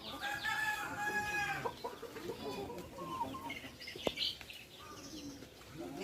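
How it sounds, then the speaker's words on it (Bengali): Free-range, antibiotic-free farm chickens cluck and a rooster crows outdoors, several birds calling close by, with a sharp knock partway through and no speech. "সব মুরগি একদম খোলামেলা খাওয়া দাওয়া করতেছে।"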